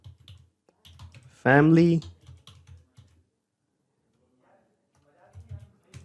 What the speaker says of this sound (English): So I'm typing it like this